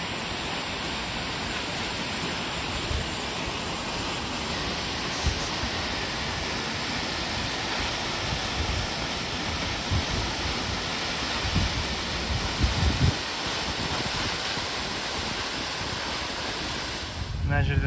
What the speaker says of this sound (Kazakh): түсіп жатқан судың дауысы әрине Ниагарадан кішкене басқаша, бірақ соның өзінде де атмосфера керемет